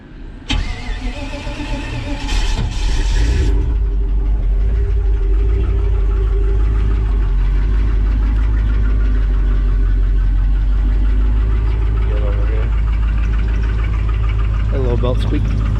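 A Chevrolet S-10 pickup engine cranks and catches inside a garage, then settles into a loud, steady rumbling idle that continues without letup, with a voice briefly heard over it.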